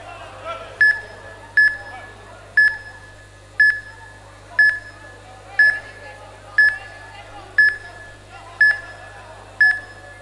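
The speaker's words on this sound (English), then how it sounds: "You can hear the timer counting down." A match timer at a martial arts championship beeps about once a second in a steady countdown of roughly ten sharp beeps, with a hall murmur and low hum continuing underneath.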